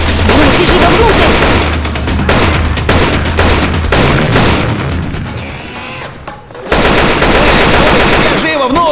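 Rapid bursts of Left 4 Dead 2 gunfire, loud and nearly continuous, with rattling automatic fire and a brief lull before shooting resumes.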